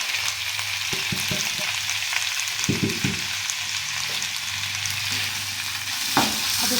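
Tomatoes hit onions already fried in a pan for an okra-and-onion dish, giving a steady, close sizzle with a few sharp stirring scrapes and clatters, and no talk.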